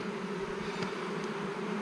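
A dense, steady hum of many honeybees buzzing in a hive during frame inspection, close and continuous, with a low droning tone and no voices.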